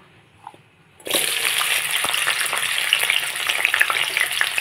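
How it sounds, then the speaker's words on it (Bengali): Carrot pieces hit hot oil with salt and turmeric, bursting into a loud, sudden sizzle after a second of near quiet, then crackling and hissing steadily up close. "তেল গরম হয়ে গেছে, একটু নুন হলুদ দিয়ে আমি গাজরের টুকরোগুলো একটু ভেজে নেব।"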